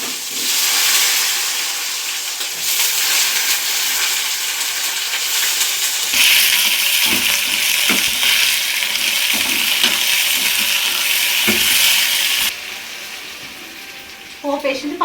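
Tempering spices with cumin, mustard seeds and lentils sizzle in hot oil for a Telugu pappu dish. The hiss is loud and continuous, rising in bursts as more goes in, then dropping near the end with a few clatters.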